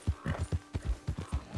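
A wild horse in the video game Red Dead Redemption 2 clip-clops along, its hooves landing in a quick, steady rhythm of about a dozen distinct thuds, close and prominent without talk.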